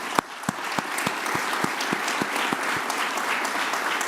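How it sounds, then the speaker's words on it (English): Applause from the audience at an anniversary research conference, dense and even clapping that holds steady throughout, with a few sharper, louder claps standing out near the front. "Please give me have an applause for."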